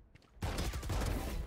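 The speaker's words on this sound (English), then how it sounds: "Long range shotgun" Long-range shotgun blasts in a Valorant deathmatch come as a loud, dense burst of gunfire that starts abruptly partway through and keeps roaring to the end.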